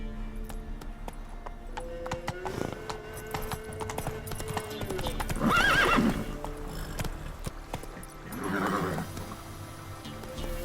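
A horse in The Witcher 3 whinnies loudly twice, a high neigh in the middle and another near the end, over steady hoof clip-clop and game background sound, with no talk during the calls.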